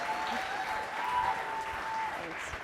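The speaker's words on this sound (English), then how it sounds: "So if everyone could give Jennifer Lane a round of applause." A conference audience applauds a speaker at a NASA talks session, a steady wash of many hands clapping, moderately loud and even throughout, with a faint voice briefly underneath.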